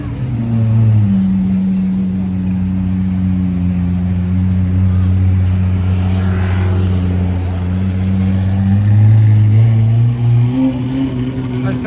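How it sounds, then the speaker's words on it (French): A Lamborghini SVJ on a Monaco street holds a loud, deep engine drone that swells and settles for several seconds, close by, with people talking over it. "Elle fait un sale bruit la SVJ."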